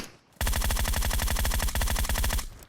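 Rapid automatic gunfire in the mobile battle-royale game PUBG Mobile, a loud sustained burst of rattling shots lasting about two seconds after a brief quiet start, with no talk over it.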